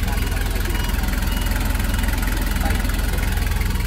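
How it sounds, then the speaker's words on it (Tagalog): A car engine idles after its original radiator is refitted. The close, steady running has an even, rapid pulsing throb and a low rumble that stays constant throughout. "so maandar na yung engine natin."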